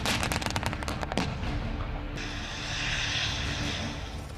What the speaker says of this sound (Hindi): आसमान से लड़ाकू विमानों की गर्जना पूरे इलाके को भयभीत कर रही है।